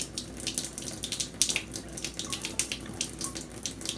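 Water runs steadily from an eSpring water filter faucet, a continuous close splash with small bubbling pulses and no voices.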